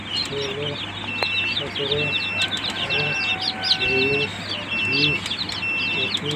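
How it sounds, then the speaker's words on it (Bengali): Newly hatched Tiger chicken chicks from a hatching machine make busy poultry-yard chatter, many high chirps layered over clucks, coos and a steady low hum, a voice speaking intermittently beneath it. "আজকে আমাদের টাইগার মুরগির বাচ্চা বের হয়েছে"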